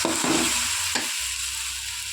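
Onions and tomato puree sizzle in a pan for paneer capsicum curry, a close, continuous frying hiss with a spoon scraping and stirring through it, steady and fairly loud.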